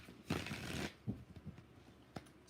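Tarot cards are shuffled by hand close up, beginning with one quick riffle and followed by a few softer taps and slides.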